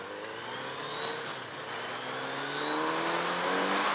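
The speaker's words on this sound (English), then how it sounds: "I just gave it a little blip there and it just took off" Kawasaki Z900RS inline-four motorcycle engine pulling hard under acceleration, a smooth rising whine that climbs steadily over a few seconds, fairly close with wind rush.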